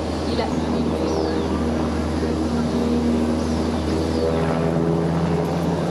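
Navy NH-90 Caïman helicopter flying a display at an air show, a steady, loud rotor and turbine drone filling the whole stretch with a low throb, while a commentator's voice talks over it.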